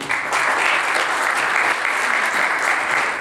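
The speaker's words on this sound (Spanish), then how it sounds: "les damos la bienvenida con un aplauso" A seated audience claps steadily to welcome the speaker at a 2011 lecture on computer forensic chain of custody, a dense, even wash of applause lasting several seconds with no talk over it.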